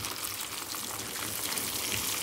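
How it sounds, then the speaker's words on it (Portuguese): Cassava frying in a pan of hot oil, a dense, steady crackling sizzle heard up close and continuously, with no talk. "enquanto a mandioca está fritando aqui,"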